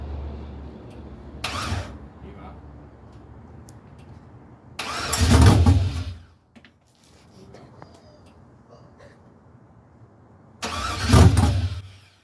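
A first start on an OBS truck with an LS engine swap: the starter cranks in three separate loud bursts, the last ones catching and roaring up briefly before falling quiet, with steady low rumble in between.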